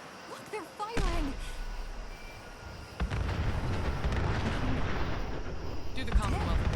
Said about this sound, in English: Looks like the gunners took the bait. Look, they're firing!